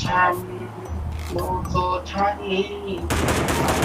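Rapid bursts of automatic gunfire from the shooter video game Sausage Man, crackling repeatedly over a few seconds with players talking excitedly over it.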